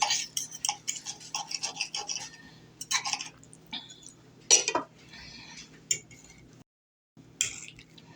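A fork and knife scrape and clink against a plate while cutting into a breakfast of purple sweet potato, mushrooms and onions. The strokes come in short, irregular close taps and scrapes with brief pauses.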